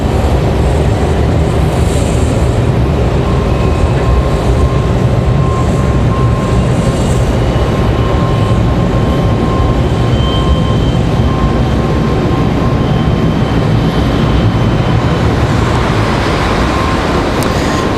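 A jet airliner on its takeoff roll along the runway at Raleigh Durham International, with a loud, steady, broad engine roar that holds throughout.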